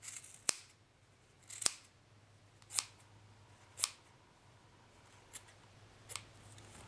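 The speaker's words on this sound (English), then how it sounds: "Cut through all these loops." Scissors snip through yarn loops on a handmade pom pom, six crisp close cuts spaced about a second apart in an otherwise quiet room.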